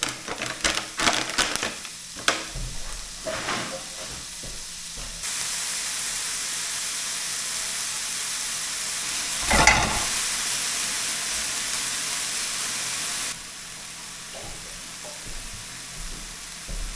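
Lardons sizzle and hiss in a hot pan while a quiche lorraine filling is made, with a steady frying hiss, a burst of steam near the middle and a few stirring clatters, with no voices.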